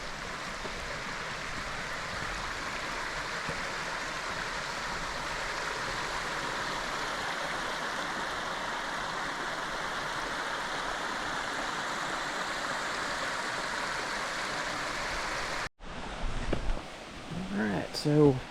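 A river flows beside a rugged trail at Laurel Falls, steady broadband rushing water close by for most of the stretch, then a brief cut to a quieter, varied passage near the end.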